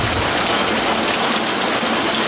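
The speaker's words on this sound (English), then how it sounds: "It is so freaking rainy right now." Loud, heavy rain pours down in a constant, hissing roar that fills the whole moment, with no pauses or voices.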